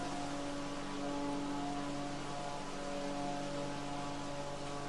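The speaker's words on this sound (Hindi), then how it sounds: "ये टनल ड्रायर प्रोसेस चल रहा है।" Tunnel dryer running in a fish feed making plant, a steady loud industrial drone with broadband airflow noise and constant tonal hum, unbroken throughout.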